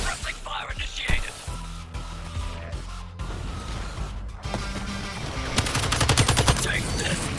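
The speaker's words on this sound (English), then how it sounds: "Suppressing fire initiated." Suppressing gunfire in the game Suicide Squad: Kill the Justice League, rapid bursts of shots and impacts layered over music and game effects, with a voice talking over parts of it.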